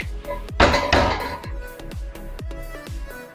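A lid clatters onto a cooking pot holding a small crayfish dish, a few sharp metallic knocks and rattles ringing out close by in a dim home kitchen, with no talk.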